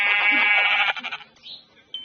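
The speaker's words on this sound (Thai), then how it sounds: "ลูกแกะ" Lamb bleating in the Minecraft video game, a loud wavering bleat lasting about a second, followed by softer broken bleats and two brief high tones, with no talk.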